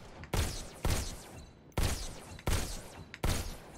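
Revolver fired five times in the VR shooter Robo Recall, each shot a sharp, loud, close blast with a short decaying tail, spaced irregularly about half a second to a second apart.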